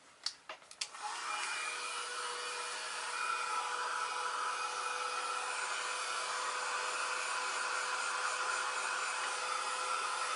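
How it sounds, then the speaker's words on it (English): A heat gun dries an ink craft background, a few handling clicks giving way to a steady, close, continuous blowing whoosh that holds level to the end, with no talking. "we're just going to give this a little bit of a dry with a heat gun"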